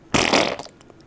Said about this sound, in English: Do you want to hear a boisterous fart?